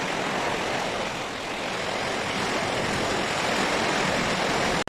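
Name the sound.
rain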